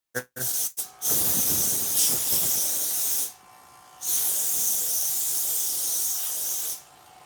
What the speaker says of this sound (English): when you're heating up clear plastic or something like that, I like to hit it with compressed air